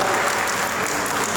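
Dense, loud applause from an audience at a retirement function fills the moment, a continuous wash of clapping with no pauses or voices.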